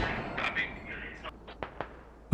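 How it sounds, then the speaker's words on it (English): Video game mortar strike: a few sharp, dull impacts and thumps crack out in quick succession over a brief span, with a louder hit at the end amid battlefield noise. "Oh, they called a mortar on Hovis."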